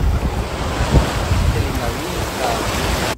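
Sea surf rolls and washes onto a beach in a steady roar, while heavy wind buffets the microphone, and the sound cuts off abruptly at the end.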